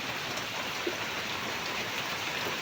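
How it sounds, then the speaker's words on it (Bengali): Steady rain falls on a Sunday morning, a continuous even hiss of drops with no voices, holding at a constant moderate level throughout. "আজকে সকাল থেকেই বৃষ্টি হচ্ছে আমাদের এখানে"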